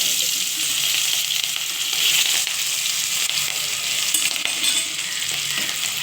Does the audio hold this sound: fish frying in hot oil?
yes